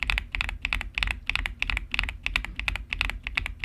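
Fast, continuous typing on a Dark Project KD87A keyboard fitted with Akko V3 Silver Pro linear switches produces bright, sharp keystrokes in dense rhythmic clusters, recorded up close with no voices.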